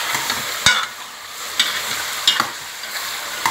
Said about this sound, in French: Je vais frire toute seule d'abord.